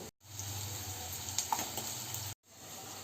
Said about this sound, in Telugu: నూనెలో మంచిగా ఉడకాలన్నమాట నూనెలో మంచిగా డీప్ ఫ్రై అయినాక